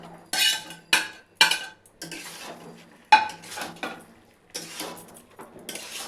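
Fish roe and potatoes go into a pan of fried spice paste for a Bengali curry, followed by a series of sharp scraping clatters of a spoon against the pan and a faint sizzle in between, close up and without talk.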